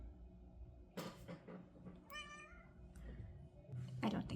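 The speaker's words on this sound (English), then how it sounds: "you're just a bad kitty who gets into things" A pet cat in a kitchen lets out a single short, rising meow, quiet and close, between scattered soft knocks and shuffling noises.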